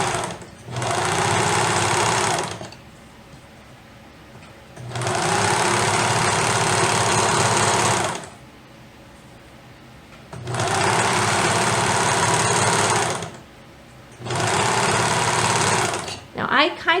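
A domestic sewing machine stitches underwear seams in four sustained bursts of steady motor whirring, each a few seconds long and separated by short quiet pauses, close and fairly loud.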